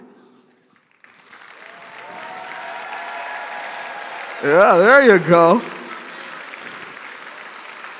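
A crowd at a robotics district opening ceremony applauds Dean's List nominees, the clapping rising after a quiet start and continuing under a speaker's voice, briefly covered by a loud warbling electronic tone midway.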